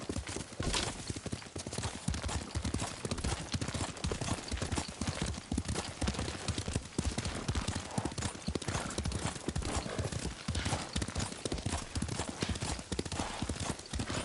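Horse hooves clip-clop steadily as a rider travels on horseback in the Ghost of Tsushima video game, a continuous rhythmic patter under faint game ambience.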